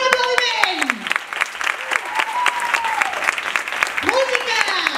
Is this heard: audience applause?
yes